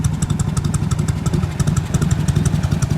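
A 1970 Harley-Davidson FLH motorcycle engine idling close by, a steady low rhythmic putter with a light mechanical clatter on top.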